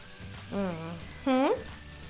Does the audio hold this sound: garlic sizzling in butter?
yes